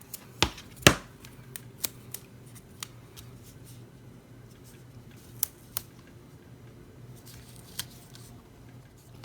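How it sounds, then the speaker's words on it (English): Scissors snip tear tape off the edge of a card base at a craft table: a handful of sharp, close clicks and snips spread irregularly over quiet, with soft paper handling between. "I like to just bring in some scissors and snip it off."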